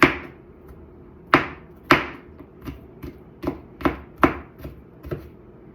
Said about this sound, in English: I'm not going to mince it, I'm just cutting it.